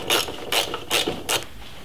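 A ratchet fitted with a 15mm socket works the bumper bolts on a Jeep Cherokee, giving four short, close, crisp ratcheting bursts at an even pace with no talking.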